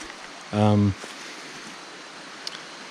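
Creek water at Rock Creek flows as a steady, soft broadband rush throughout, briefly overlaid by a short voiced tone near the start.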